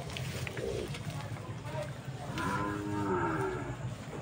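Cattle and a water buffalo low with a drawn-out, deep moo rising near the end, close, over a background of people talking.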